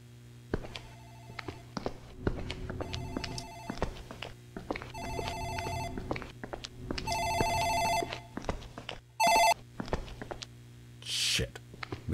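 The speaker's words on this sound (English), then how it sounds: "Phone in the office ringing." An office telephone in the horror game Dark Fracture rings in repeated electronic bursts with pauses between, over a low steady hum and occasional footsteps, alone without talk.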